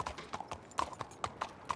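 Horse hooves clip-clopping in a video game, a quick steady run of distinct hoof clops close by, with no talk over them.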